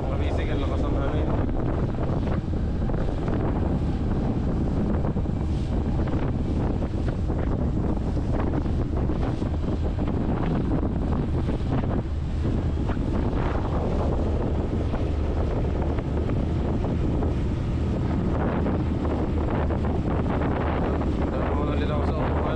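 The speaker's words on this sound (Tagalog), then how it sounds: "Mga kabisig, ang lakas ng hangin." Strong sea wind batters the microphone aboard a small boat, a constant heavy rumble and roar lasting throughout, with splashing water and someone talking beneath it.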